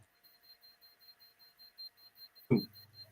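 A steady, rapid series of high electronic beeps repeats evenly throughout, with a sudden low thump near the end followed by a faint hum.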